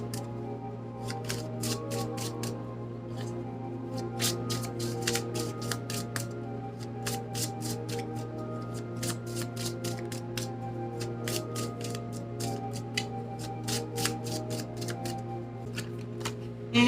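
Tarot cards are shuffled by hand in a long run of crisp riffling flutters, fast repeated bursts that pause and resume, close and clear over a steady low hum with no talking.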